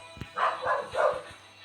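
A dog barks in a video game, a short run of muffled barks and yips at middle distance over a steady game hum, with faint thumps at the start.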